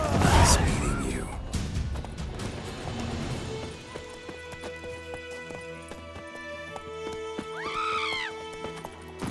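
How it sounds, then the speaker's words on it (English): A horse neighs and its hooves clip-clop in the video game The Witcher 3, with a loud whinny at the start, another neigh near the end, and clattering footfalls between. "Giddy up."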